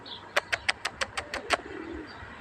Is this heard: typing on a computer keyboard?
no